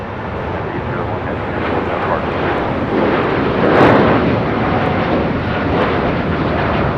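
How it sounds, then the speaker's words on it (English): A United Airlines Boeing 787-9 Dreamliner rolls for takeoff on runway 25 right at LAX, bound for Hong Kong, its jet engines a loud, broad, sustained roar that swells briefly midway and holds steady. "This is United Airlines Flight 801 taking off to Hong Kong"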